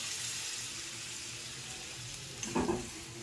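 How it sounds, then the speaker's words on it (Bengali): Masala for egg curry sizzles steadily in a pan, and water is then poured in, bringing a short burst of louder hissing and splashing near the end. "তো এবার আমি এতে একটু জল অ্যাড করব, কারণ আমার এখানে মশলাটা লেগে যাচ্ছে তলাতে।"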